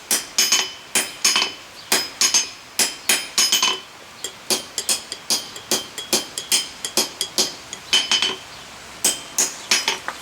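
Hammer upsetting steel on an anvil for forging tongs, a long run of sharp, ringing metallic strikes in a fairly steady rhythm with short pauses, close and loud, with no talking.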